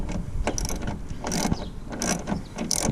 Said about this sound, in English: 3 screws removed.